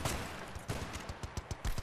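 AK rifle fire in the video game Battlefield Bad Company 2, bursts of sharp cracks with a short lull and then rapid rhythmic shots toward the end, loud and close with no talk.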